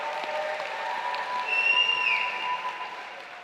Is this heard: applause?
yes